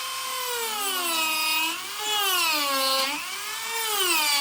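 A handheld rotary tool fitted with a Dremel burr runs wide open with a high, thin whine. The pitch wavers up and down in slow swells as the load changes, steady and close, with no talking.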